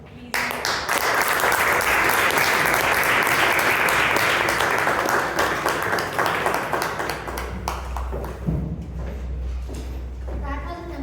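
Applause for the speakers at a Toastmasters club meeting, a loud burst of many hands that starts abruptly, holds for several seconds, then thins out into scattered claps, shuffling and voices.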